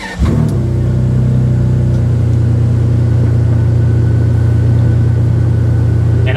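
A car engine starts with a sharp catch and then settles into a loud, steady, deep rumble that holds close and continuous with no talking.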